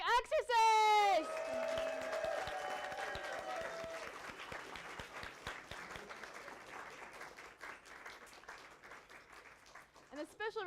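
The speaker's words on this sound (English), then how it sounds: "Another round of applause for all punk rock Exorcists!" An audience at a game presentation showcase applauds, the clapping swelling after a brief vocal and music burst at the start and continuing steadily, moderately loud and close, then thinning toward the end.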